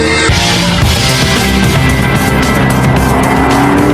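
Supercharged 5.4-litre V8 supercar accelerating hard on sweeping roads in northern France, a loud, sustained, rising engine roar heard close throughout, with tyre noise beneath and no talking.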